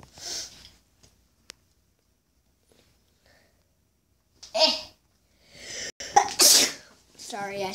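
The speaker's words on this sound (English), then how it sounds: "Sorry, I sneeze a lot." A single explosive sneeze sounds close and loud partway through, preceded by near silence with a few small clicks, followed by sniffing and someone talking.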